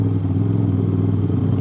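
An Aprilia RS660 motorcycle with an aftermarket exhaust idles with a deep, loud, rumbling exhaust, steady and close, with a slightly uneven throb throughout.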